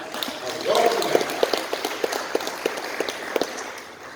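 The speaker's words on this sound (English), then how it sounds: "Can we give her a hand clap?" A church congregation claps to welcome back a member returning after health issues, a scattering of distinct hand claps across a few seconds with a voice briefly heard near the start.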